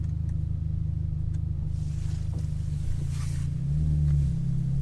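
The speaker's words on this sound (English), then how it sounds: "I'm actually driving a Ferrari out of the Ferrari factory" A Ferrari Portofino M idling and pulling away at the Ferrari factory, with a steady low engine hum that rises slightly near the end as it gets moving.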